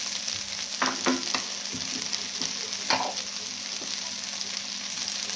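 Okra and grated coconut stir-fried for a Kerala thoran, with a steady close sizzle and scattered scraping and tapping of a spoon against the pan; no voices.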